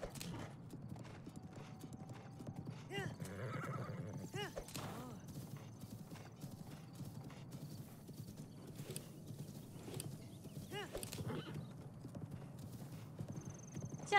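Horse hooves clip-clop in rapid rhythmic gallop in the video game Zelda Breath of the Wild, with occasional neighs and whinnies, faint under a person talking intermittently.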